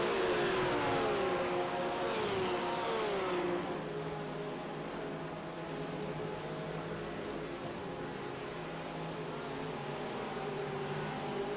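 Race car engines in a GT sim racing game scream through gear changes, rising whines early on settling into a steady loud drone, with no talk over them.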